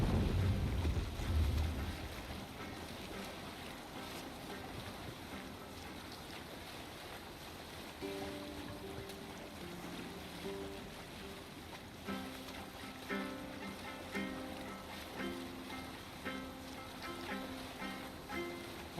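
A Viking longship under sail at sea in Assassin's Creed Valhalla, steady rushing of waves and wind against the hull, with a low swell throughout and faint music-like tones rising in the background.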